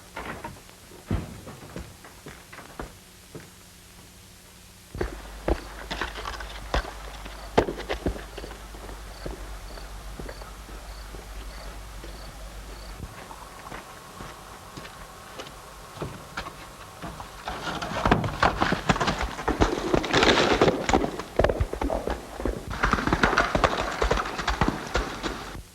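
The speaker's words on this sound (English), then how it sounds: "I'm gonna ride that horse right now." Horse hooves clip-clopping as a horse is ridden in a 1930s Western setting, steady walking beats that grow louder and busier toward the end, with no talking.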